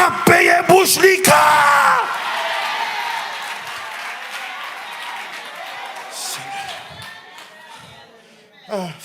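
A church congregation cheers and acclaims with loud yells and whoops that fade into a sustained crowd roar, then rise briefly again at the end.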